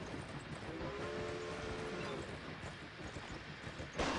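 Horse hooves clip-clopping in a video game, a steady, fairly quiet rhythmic trot running throughout beneath low rumbling ambience, with a louder rustle at the very end.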